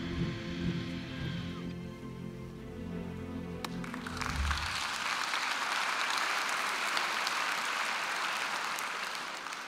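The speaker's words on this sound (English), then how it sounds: "I can't tell if you're clapping because it was a good video or because it was 1 minute long." Audience applause breaking out after a short video ends at a talk, rising from the tail of music into a full, steady wash of clapping that continues to the end.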